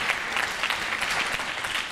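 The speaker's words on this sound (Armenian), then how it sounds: "Բարձր ծափահարությունները մեր հանրային դասեկներին" Dense, steady applause from an audience at a school last-bell ceremony, honouring the teachers, many hands clapping continuously and fairly close with no voices over it.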